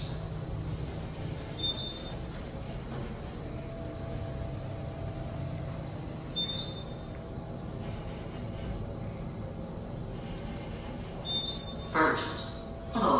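An Otis Gen3 elevator with a tall stainless steel cab travels down, giving a steady low rumbling hum with faint high whines and a few brief chimes or beeps near the end.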